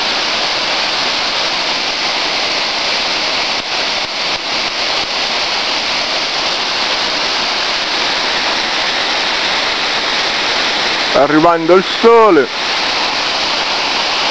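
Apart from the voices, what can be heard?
waterfall below a dam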